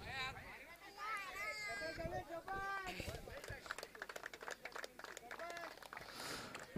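Crowd applause for a player at the prize distribution ceremony of the Bhoiwada Big Bash 2025 cricket tournament: scattered then steadier clapping, fairly distant, under an announcer talking over a loudspeaker.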